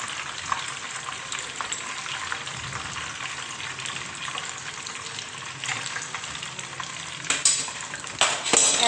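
Chargha kababs deep frying in hot oil, a steady dense crackling sizzle that holds evenly throughout, close and fairly loud, with a few clinks of a utensil against the pot near the end.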